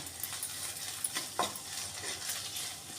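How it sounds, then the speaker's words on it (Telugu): Sorrel flower buds frying gently in a little oil over a low flame, with a quiet steady sizzle and scattered scraping taps as they are stirred in the pan. "కొంచెం ఆయిల్ వేసుకొని ఇవి వేసుకొని బాగా ఉడికేలాగా స్టవ్ చిన్నగా పెట్టుకొని కలుపుతూ ఉండాలి"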